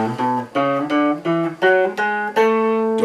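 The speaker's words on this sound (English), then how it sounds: "Major scale sounds like this." A single melodic instrument steps up a major scale, eight sustained notes, each cleanly attacked and rising evenly in pitch.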